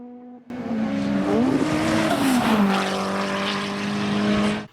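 A heavily modified front-wheel drive time attack race car screams down a track straight, its engine note rising and falling loudly and steadily through the pass with no talk over it.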